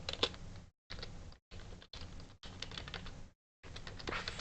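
Rapid clicky typing on a computer keyboard, dense bursts of keystrokes broken by short silent gaps, close and fairly quiet with no voices.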